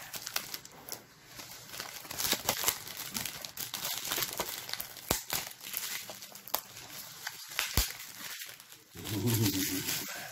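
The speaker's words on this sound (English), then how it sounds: "in here, slice it open" Plastic wrap being sliced open on a PSP UMD case, a dense crinkling and tearing texture close to the mic with sharp clicks, ending in a louder rustle.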